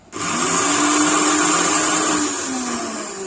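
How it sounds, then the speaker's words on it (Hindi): A mixer grinder whirs loudly and continuously for several seconds, a harsh high-pitched motor drone that starts abruptly and eases slightly toward the end. "देखिए मेरा मिक्सी कितना आवाज कर रहा है"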